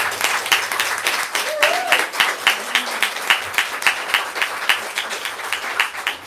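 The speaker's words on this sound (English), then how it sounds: "maybe a round of applause" An audience at a book event claps for the author, a moderate round of applause with a voice speaking briefly over the clapping partway through.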